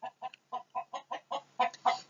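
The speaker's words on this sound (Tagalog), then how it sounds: "Sabak ning manok." A chicken clucks about nine times in a quick, even rhythm. The clucks are close and fairly quiet, and the last few grow slightly louder.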